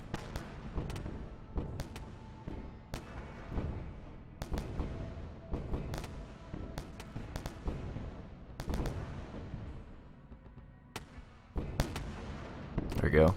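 Weapons fire pounds into a ship in the space game Wayward Terran Frontier: repeated heavy booms and cracking shots in irregular bursts, some spaced and some clustered, over a low rumbling bed, with a voice talking at times.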